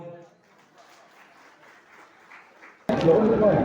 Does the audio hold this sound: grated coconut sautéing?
no